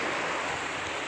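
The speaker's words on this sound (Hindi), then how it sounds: "तीन तरफ से समुद्र है" Sea waves around Neil Island wash in as a steady, close hiss of surf, with no voices, over about a second.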